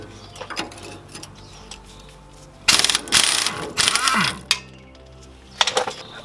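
A ratchet wrench with an 18mm socket working a bolt on an aftermarket sway bar of a Tacoma truck's front suspension, giving a few close, loud bursts of rapid clicking separated by quieter pauses.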